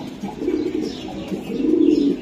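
A club-raced racing pigeon gives a low, throaty coo that swells twice within a couple of seconds, close and fairly loud with no talk.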